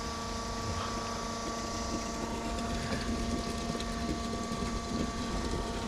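A 12V fuel transfer pump on a tank and reel setup runs with a continuous mechanical whir and steady tonal hum, with a light rattling texture throughout and no talk.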